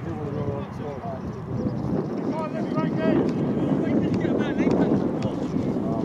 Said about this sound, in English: There's a strong wind in this second half.